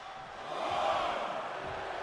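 A wrestling crowd cheers in the WWE 2K25 video game, a muffled arena roar that swells after a moment and then holds at a steady level.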